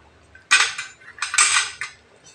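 A metal spoon scrapes and clinks against a pot of Kumbakonam kadappa, a South Indian curry, in two bursts of stirring, close and fairly loud, with quiet pauses between.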